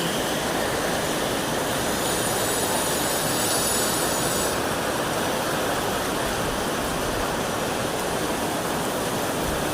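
Heavy rain of the first May downpour, a dense, steady roar close by that holds evenly throughout, with a faint high whine over its first half and no voices.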